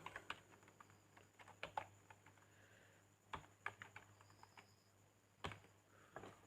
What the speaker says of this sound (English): Okay, I am typing the URL.